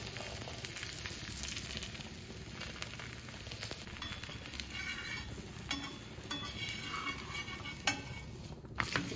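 Ragi roti frying in oil on a pan, giving a steady, close sizzle with crackling throughout and no talk.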